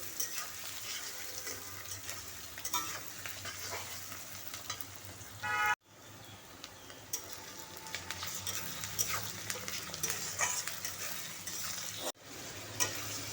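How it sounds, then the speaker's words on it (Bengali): Onions frying in a wok with whole garlic cloves, a steady loud sizzle running throughout with brief breaks, close and without talk. "আর কড়ার মধ্যে এই যে পেঁয়াজ ভাজছি এখন।"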